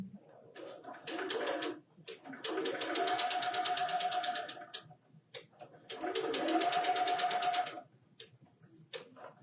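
A sewing machine stitches quilt block pieces together for a flower block, with two whirring runs of a few seconds each and a steady hum with fine ticking, quiet between them.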